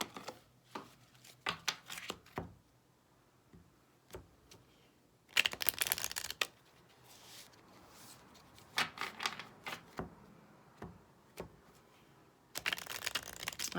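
Oracle cards shuffled by hand in a series of soft riffling, slapping bursts with quiet pauses between them, fairly close and without any talk.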